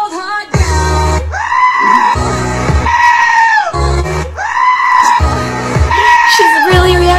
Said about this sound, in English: screaming goats